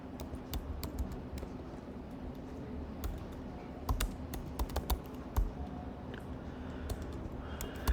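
Rapid, irregular clicking of keys on a computer keyboard, close and fairly quiet, with occasional heavier key strikes and no talking.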